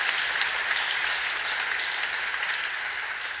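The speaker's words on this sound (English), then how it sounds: "Let's give her a round of applause." A crowd applauds Lieutenant Governor Kathy Hochul at a memorial gathering, giving steady, dense clapping that fills the moment without a break and fades slightly at the end.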